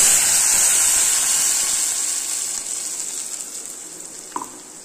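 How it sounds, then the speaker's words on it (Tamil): Water poured into tomato chutney for dosa in a pan, a steady close hiss and splash that fades gradually, ending with a brief clink. "கொஞ்சமா தண்ணி சேர்த்துக்கலாம்."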